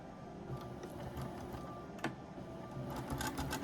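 A sewing machine sews a quarter-inch seam on a log cabin sampler quilt. It makes a steady, fairly quiet mechanical whir with rapid ticking, and occasional sharper clicks cut through.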